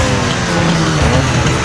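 Vintage racing motorcycles revving before a race, a loud, dense engine roar that fills the short stretch without a break, heard up close with no speech.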